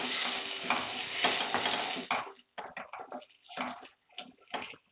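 Chili powder is stirred into a masala frying in a pan for matar paneer, with a loud, dense sizzle at first that breaks into separate bursts of scraping and spluttering as the stirring goes on.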